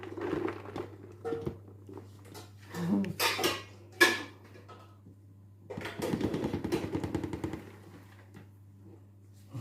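A spoon scrapes and clinks against a bowl as Christmas cake mixture is stirred and folded, in uneven bursts of clattering and soft thick squelches with pauses between, close by.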